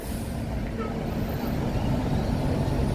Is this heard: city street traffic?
yes